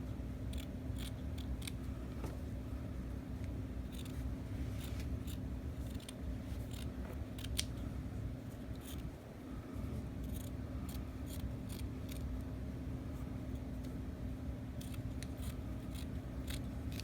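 Scissors cutting through scarf fabric for a face mask, with repeated crisp snips in an uneven rhythm over a steady low background hum.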